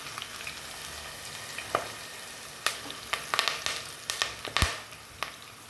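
Onion, green chili and curry leaves fry in oil with a faint sizzle, with sharp spattering pops and clicks scattered through the second half; no one speaks.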